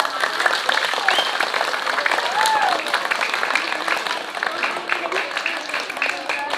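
Audience applause at a Balinese bondres comedy performance, a dense steady wash of clapping lasting throughout, with voices and cheers mixed in underneath.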